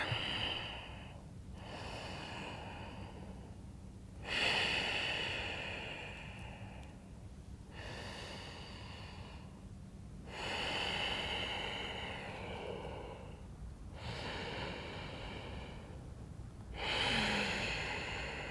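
Slow, deep breathing held in a downward facing dog yoga pose during a sun salutation, with long airy inhales and exhales alternating in an even rhythm, close and fairly soft.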